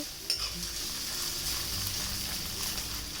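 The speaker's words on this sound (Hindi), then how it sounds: "अब हम इन्हें अच्छी तरह से मिलाते हुए 2 से 3 मिनट के लिए भूनेंगे।" Sweet corn for a corn kheer is stirred and roasted in a hot pan, giving a soft continuous sizzle and a few quiet scrapes and taps of the spoon, close and fairly faint.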